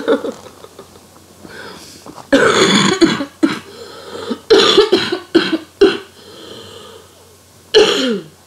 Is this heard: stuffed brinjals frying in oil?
no